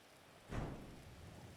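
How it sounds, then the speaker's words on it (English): A storm in the GTA No Pixel roleplay game: a sudden swell of rain and rumbling thunder that rises sharply and then settles into a steady rushing downpour. "Do you hear the storm?"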